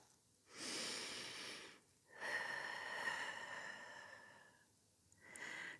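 Heavy, deliberate breaths from someone mid-Pilates workout, done on a floor with no equipment: a long exhale, then a longer raspy breath with a faint whistle, and a final short puff, close and alone.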